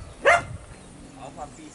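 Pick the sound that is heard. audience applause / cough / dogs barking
dogs barking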